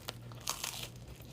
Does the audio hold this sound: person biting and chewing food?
yes